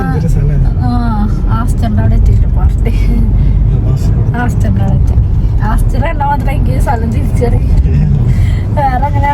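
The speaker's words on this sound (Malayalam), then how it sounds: "അവിടെ സത്യം വണ്ടികളുണ്ട് കേട്ടോ റോട്ടില്" Steady road traffic on a street in Kochi, with car and bus engines forming a continuous low rumble close by, heard under ongoing conversation between people.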